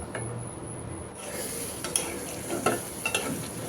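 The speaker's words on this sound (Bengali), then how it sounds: "এই তো এখন শুটকিটা নেড়ে চেড়ে ভাজা ভাজা করে নিব" Spiced dried fish with a bay leaf and a little water fries in a pan, a steady close sizzle under scraping stirs and light metal clinks that grow busier toward the end.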